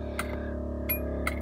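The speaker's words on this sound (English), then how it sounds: "And sounds like the vacuum pump is running." An electric vacuum pump runs in a 1981 Lectra Motors Lectra 2+2 electric car. It gives a steady, low, buzzing drone with layered harmonics, and a few faint clicks land on top of it.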